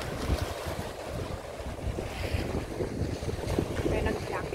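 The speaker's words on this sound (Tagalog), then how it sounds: "Mahangin pa rin. Malamig ang hangin kahit maaraw." Wind buffeting the microphone in a steady, rumbling roar with gusty swells, outdoors on a cold, windy but sunny day, with a little speech faintly mixed in.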